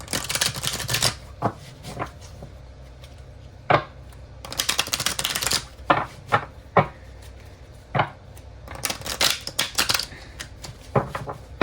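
Tarot cards are shuffled during a reading, riffling in short crisp bursts and longer flurries separated by quiet pauses and occasional taps, recorded close and moderately loud with no talk.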